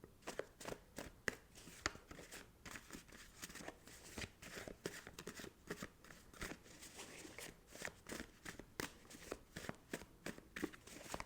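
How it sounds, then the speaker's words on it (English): Rapid, soft papery riffling of tarot cards being shuffled overhand, a dense run of light flicks and taps, close and quiet with no talking. "it sounds different to any other deck I have when I shuffle it overhand"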